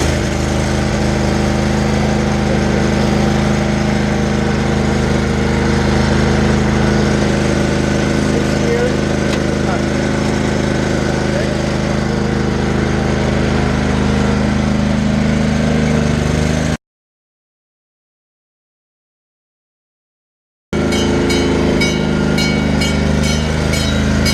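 Trackless train engine running with a loud, steady mid-pitched drone like a small lawn-mower motor, close and continuous, cutting out abruptly to silence before resuming, with a voice talking over it.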